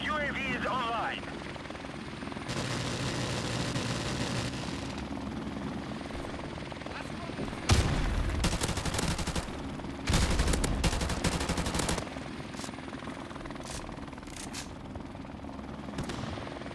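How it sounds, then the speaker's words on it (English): Call of Duty: Modern Warfare Remastered multiplayer: a friendly support helicopter drones steadily overhead while loud bursts of gunfire break out mid-way, with game radio voice calls over the battle noise. "Friendly helicopter on the way."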